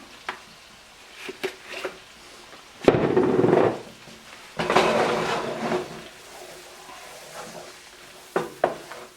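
A flour roux with onions, grease and butter cooks in a pan, bursts of sizzling and scraping stirs rising and falling between quieter moments with a few utensil knocks.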